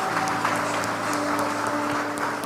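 A congregation at a church motivational talk claps together in a steady, moderately loud burst of applause, with a faint sustained tone from the room's sound system underneath.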